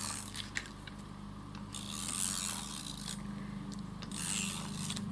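Runner tape is unrolled and pressed down, giving close, quiet scraping and rubbing sounds with a few small clicks, rising in two longer rasps near the end.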